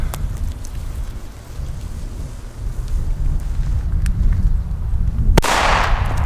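A small F2 New Year's Eve firecracker holding about 3 grams of powder goes off with a single sharp, loud bang near the end, over a continuous crackling, hissing background.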